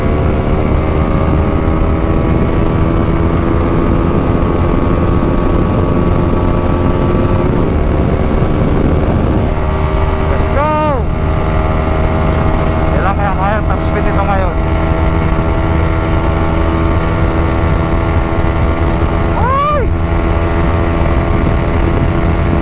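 A Honda CB150X motorcycle on its last ride hums steadily with a constant engine drone and wind rush, pitch sweeping up and down at moments as the rider shifts and changes speed, with the rider talking throughout.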